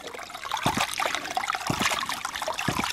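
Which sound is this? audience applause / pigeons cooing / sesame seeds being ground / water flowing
water flowing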